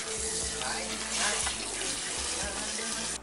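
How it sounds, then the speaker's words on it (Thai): Water runs steadily from a tap at a salon wash basin during a hair rinse, a continuous hiss with low rumbling underneath and no clear talk. "ตอนนี้อยู่ในขั้นตอนของการล้างผม"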